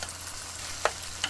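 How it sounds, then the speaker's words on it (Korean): Korean savory pancake (jeon) frying in a pan, a soft continuous sizzle and crackle heard close, with a couple of brief sharper pops. "먼저 전 부치는 소리"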